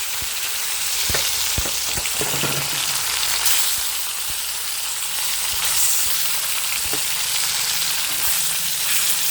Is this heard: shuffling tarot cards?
no